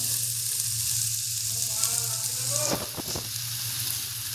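Amla (Indian gooseberry) frying in a pan for pickle, a steady close sizzle with a few short scraping stirs of the spoon near the end.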